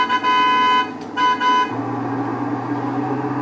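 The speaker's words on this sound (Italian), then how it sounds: "Con X suonerete il clacson" A car horn in Grand Theft Auto V sounds two steady blasts in the first seconds, the second split by a short gap. It then gives way to a lower engine drone that continues to the end.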